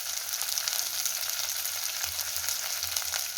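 Sliced onions and green chillies sauté in a pan, sending up a close, even sizzle with light crackling throughout, and no voices over it.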